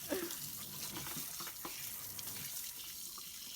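Water sloshing and churning inside a washing machine drum with a plastic bottle added, a continuous faint swishing wash with a few soft knocks, heard quietly and without talk.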